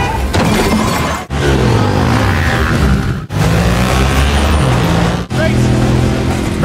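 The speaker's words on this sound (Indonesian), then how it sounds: "Tak lama kemudian ada mobil yang menabrak Grace" A car slams into another vehicle in a Mission Impossible film chase, loud crashing and shattering with roaring engine noise, dense and continuous with brief gaps.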